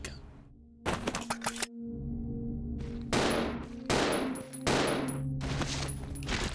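A shotgun fires in the video game Resident Evil, several loud, sharp blasts in a ragged sequence with brief gaps between them.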